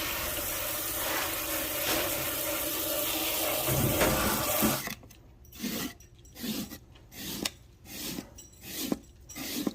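Water washing off a Lincoln Town Car floor mat, first a steady loud spray hitting the mat, then a run of separate splashing bursts and drips at a rhythmic pace.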